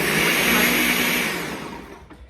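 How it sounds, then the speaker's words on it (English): A Ninja blender running its smoothie program whirs loudly and steadily close by, then winds down and fades toward the end with no voices. "I'm gonna turn it on and hit smoothie. Pretty loud. As you can see, it starts and stops."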